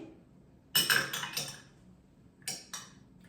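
A utensil stirs liquid batter with salt and vanilla in a bowl, giving quick clinking scrapes against the side in two short bursts separated by a pause, close and fairly quiet.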